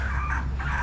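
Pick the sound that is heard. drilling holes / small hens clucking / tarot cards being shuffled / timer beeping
small hens clucking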